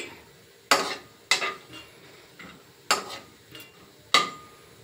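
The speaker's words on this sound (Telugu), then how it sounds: "కొంచెం ఇలా కొంచెం రోస్ట్ కలర్లో వచ్చేంత వరకు వేగనీయండి" Wheat rava roasting in a pan as it is stirred, with several sharp scraping clacks of a spoon against the pan spread irregularly over a quiet, faint background.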